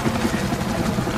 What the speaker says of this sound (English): Once again, another loud helicopter.